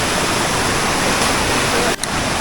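Loud, steady rushing of a river flowing through a rain-soaked monsoon forest in the Konkan countryside, a dense broadband roar filling the whole stretch with only a momentary dip near the end.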